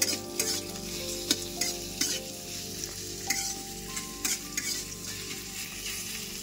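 Garlic and ginger, with onion, fry in oil in a pan with a steady soft sizzle, punctuated by frequent light scrapes and taps of a spatula stirring.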